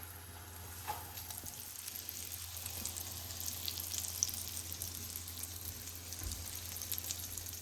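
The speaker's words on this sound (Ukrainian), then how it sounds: "я обсмажу їх просто на оливковій олії з двох сторін під закритою кришкою" Syrniki, cottage cheese pancakes, fry in olive oil under a closed lid, giving a faint, steady, muffled sizzle with scattered light pops over a low hum, with no talk.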